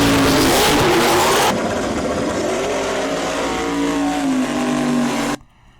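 A G-body donk race car engine accelerating hard, a loud rising roar that shifts pitch and climbs steadily before cutting off abruptly near the end, heard alone without talk.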